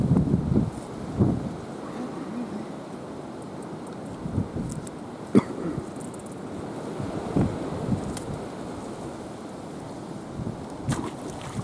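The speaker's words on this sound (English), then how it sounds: "So windy." Gusty wind rumbles and buffets the microphone outdoors near water while bass fishing in Kansas, with faint waves and occasional soft knocks, no clear talking.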